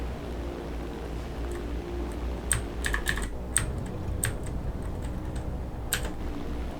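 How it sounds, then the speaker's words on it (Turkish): Computer keyboard keys pressed while playing War Thunder, a handful of light, crisp clicks scattered over a steady low engine drone, close and fairly quiet with no talk. "Space tuşuna bastım"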